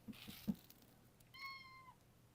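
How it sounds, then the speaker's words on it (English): A squeaky meow from a small new cat, one drawn-out rising-then-falling call standing clear after a few soft thumps and rustles, close and fairly quiet. "This squeaky little thing is our new cat."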